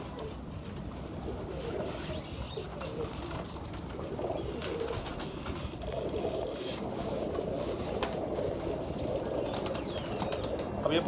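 Pigeons coo steadily in a loft, a low continuous burbling with occasional wing flutters, nearby and alone without talk, while a pigeon of the Sialkoti type is handled.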